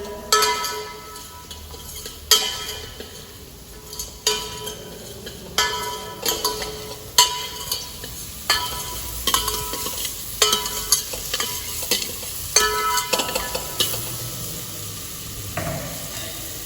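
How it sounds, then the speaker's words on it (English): Mushrooms sautéing in a pan for a stock, a steady sizzle broken by repeated stirring scrapes and clicks at an irregular rhythm, close and fairly loud with no talk. "Just saute them."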